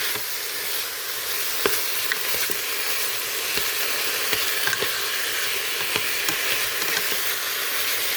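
Beef browning in a Crockpot Express pot: a steady bright sizzle and hiss of frying meat, close and continuous, with occasional pops and stirring clicks and no voices.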